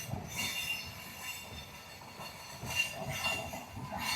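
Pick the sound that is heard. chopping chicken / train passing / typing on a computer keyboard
train passing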